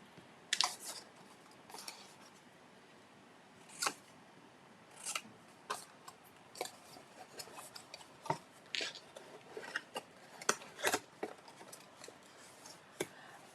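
Paperboard is creased and folded into a double fold card box, giving a string of soft crinkles and sharp crisp snaps spaced irregularly and fairly quiet, with no talking.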